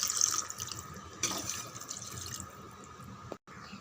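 Measured water pours into a pot for chicken biryani, a soft splashing and trickling stream, quiet and close, ending abruptly near the close.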